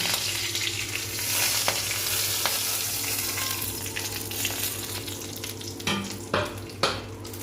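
Whole garam masala and dried red chillies frying in hot oil, a continuous close sizzle with spatula scrapes and clinks growing more frequent toward the end, no talking.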